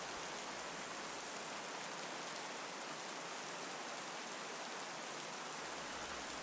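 Rain falling at night as a dense, steady hiss of drops on surfaces, even and unbroken throughout, with no voices.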